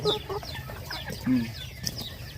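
Young ornamental Thai chickens of a buff colour variety, kept near a forest behind a house, give short soft clucks and chirps, fairly faint with light background noise.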